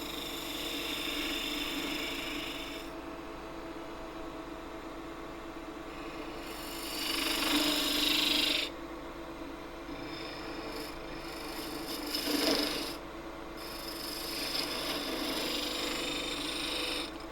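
A gouge cuts spinning wood on a lathe, with the bevel rubbing: a steady rasping, scraping drone that swells louder in a couple of spots, close and continuous over the motor hum.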